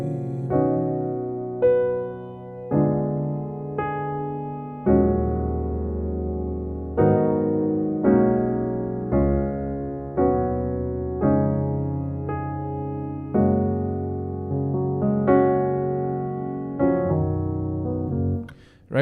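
Piano playing a slow gospel chord progression in a worship song, with half-diminished chords and passing chords, sustained chords struck roughly every one to two seconds, full and close with no voice over it.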